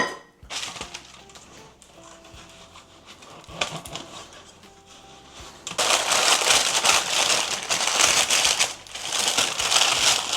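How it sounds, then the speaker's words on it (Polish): Baking paper crinkles and rustles as it is pressed into the bottom and sides of a buttered cake pan for an Easter cheesecake: soft, scattered crackles at first, then louder, denser crumpling close by. "Naszą formę wykładamy papierem do pieczenia, dno i boki"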